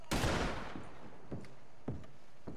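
Gunfire from a shootout, with a loud opening burst of shots followed by several sharper single reports spaced about half a second apart, heard alone without talk.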